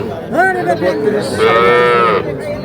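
Cattle at Ambari livestock market where small bulls and heifer calves are sold, one loud close moo rising and holding, followed by a second long tonal bellow, with no talk over it.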